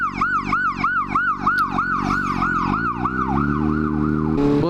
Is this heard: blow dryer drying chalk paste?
no